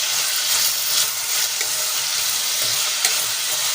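Spinach mixture for palak paneer sautéing in a pan, a steady close broadband sizzle with soft stirring scrapes throughout and no voices.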